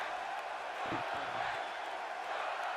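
A wrestling arena crowd keeps up a steady, fairly distant roar of jeers and shouts, with a brief voice cutting through near the middle.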